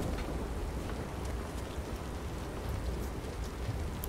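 Hail Strike spell from the video game Divinity: Original Sin 2, a steady dense patter like heavy rain or hail pelting a surface, continuous and fairly loud throughout with no talking.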